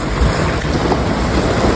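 Heavy rain and a gusty windstorm with hail lash an outdoor spot sheltered by a tarp, making a loud, steady, broadband roar throughout with no voices.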